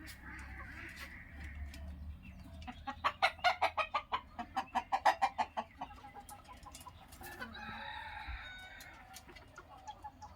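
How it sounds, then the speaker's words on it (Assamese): Chickens on a poultry farm with a flock of about 110 laying hens, a rooster crowing loudly in a run of rhythmic calls amid steady clucking and softer bird chatter close by, with no talking. "110টা মুৰ্গী আছে"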